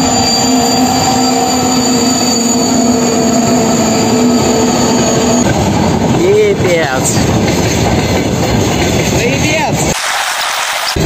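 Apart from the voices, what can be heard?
freight train passing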